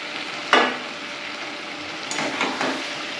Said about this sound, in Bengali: এবার মশলার সঙ্গে আলু আর ডিম একটু ভেজে নেব।